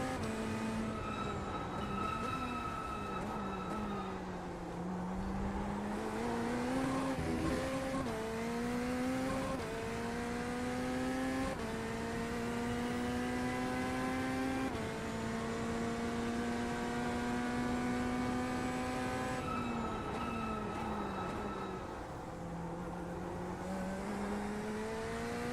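Sustained engine drone of a race car in the iRacing sim, with steady harmonic tones rising and falling through gear changes over continuous loud running, no talk.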